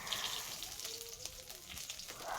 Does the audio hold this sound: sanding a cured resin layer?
no